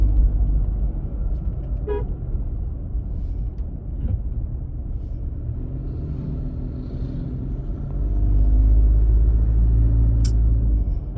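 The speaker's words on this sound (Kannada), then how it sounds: "ನಮ್ಮ ಗಾಡಿ ಮುಂದೆ ಹೋಗ್ತಾ ಇದೆ." A vehicle drives steadily along a road with a continuous low rumble, a short horn toot near the start and another later on, and the engine noise swelling louder toward the end.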